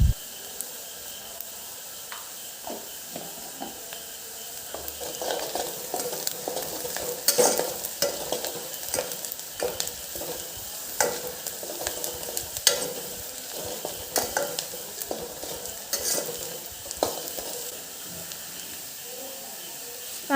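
Onion fries in a pan with turmeric, giving a steady close sizzle and hiss broken by frequent scraping stir strokes that clatter against the pan.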